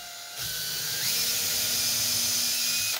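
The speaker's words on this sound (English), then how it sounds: "Just drill the holes out." Hand drill turning slowly to bore holes through a template while building the fuselage of a scratch-built RC plane: a thin steady whir with a rising whine, continuous and fairly quiet at close range.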